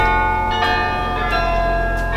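Church bells in Amsterdam ring loud and resonant, their strikes landing about every two-thirds of a second over a sustained, humming wash of overtones, with no voices.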